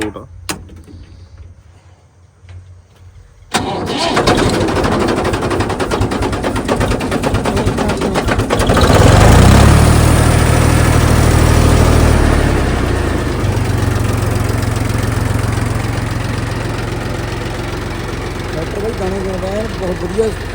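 A John Deere tractor engine cranks and catches after a few seconds of near silence, then runs steadily at a loud, deep idle with a brief rise in revs partway through.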